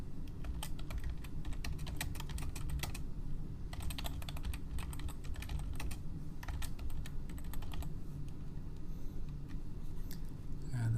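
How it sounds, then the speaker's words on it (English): Someone types a short message on a computer keyboard, giving rapid clusters of close key clicks in several bursts with brief pauses between them over a low room hum. "So let me just quickly type in one now."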